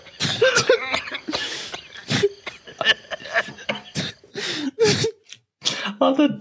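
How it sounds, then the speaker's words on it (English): A man in a film scene coughs hard and repeatedly in ragged bursts, close and fairly loud, mixed with voices and throat sounds. "There's just a guy coughing insanely."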